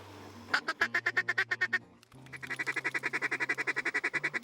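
Ducks at a freshwater pond in Mexico quack in fast, loud, close runs of rhythmic calls, a brief pause, then a longer unbroken series.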